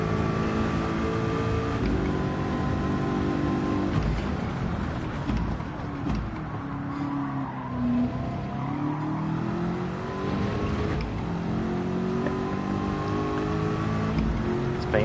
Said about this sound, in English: Scozzy is now within slipstream of us